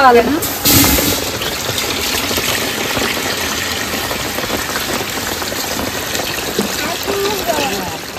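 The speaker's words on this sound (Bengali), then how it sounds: "চাল আর ডাল সব একসঙ্গে ধুয়ে নেবো।" Water pours and trickles into a pot of rice with masoor and mung lentils being washed for khichuri, a strong gush at the start settling into a steady splashing fill, with a voice speaking over it.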